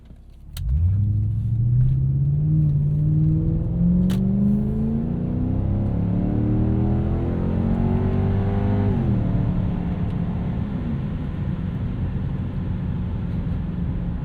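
A 1998 Lexus GS 400 V8 with a Megan catback exhaust and five-speed gearbox roars to life and revs hard, pitch climbing steadily before dropping back, heard from inside with the windows up.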